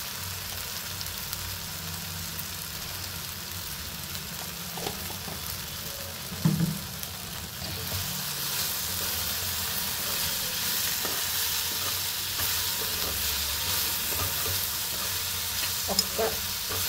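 Raw tamarind pickle mixture frying in oil with turmeric, a continuous soft sizzle with intermittent spatula scrapes and a clunk, growing brighter and louder partway through, close and without talk.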